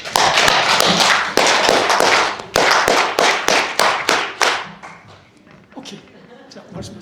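An audience at a memorial academic conference in Uiwang performing the Korean 3-3-7 clap, loud sharp group claps in grouped bursts that thin into scattered claps and murmuring.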